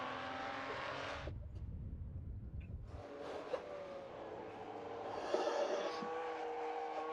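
Classic racing cars, including a red and gold AC Cobra, roar past on the Estoril circuit during a historic race meeting, with engine drone rising and falling as cars pass at a middle distance, loud throughout with a brief lull.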